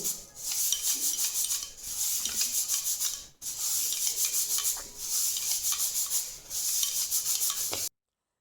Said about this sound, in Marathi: असा रब कपडा घ्यायचा, म्हणजे त्याने ती अशी स्वच्छ होती, अशी घासून घ्यायची